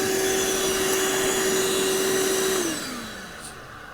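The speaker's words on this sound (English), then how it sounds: "I'll grab the shop vac and just suck it out." A shop vac drones loudly and steadily up close while sucking out a clogged AC drain line, then its pitch drops and the sound thins as it winds down near the end.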